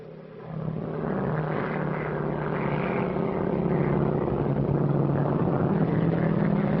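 Steady, loud drone of an airplane engine in flight at about 15,000 feet, a continuous roar that swells slightly and holds throughout, with no talk.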